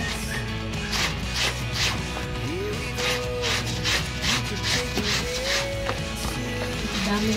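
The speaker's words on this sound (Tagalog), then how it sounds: "Daming kuskusin." Laundry scrubbed by hand with rhythmic, close rubbing strokes repeating steadily throughout, with faint background voices.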